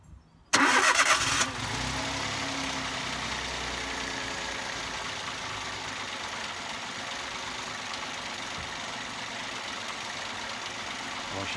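A Toyota Aygo 1.0 petrol engine cranks briefly and catches, surging loudly for a second before settling into a steady, even idle that continues close by after a throttle body, MAP sensor and PCV cleaning, with no voices.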